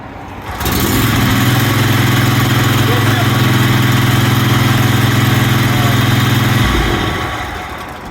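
A commercial walk-behind zero turn mower engine runs loud and close, a steady, deep, droning hum that holds for about six seconds before cutting off sharply near the end.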